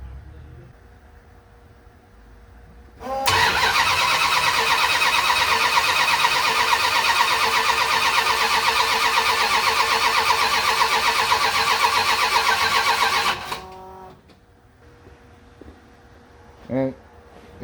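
A 1979 Dodge D100 Warlock engine cranks, then fires and runs loud and steady for about ten seconds before shutting off, close by with no talk over it.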